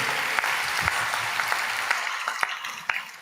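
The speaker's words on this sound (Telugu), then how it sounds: "చప్పట్లు కొట్టుకోండి" A church congregation claps and applauds together in a dense, steady wash of hand claps that fades slightly toward the end, with a few sharper claps standing out.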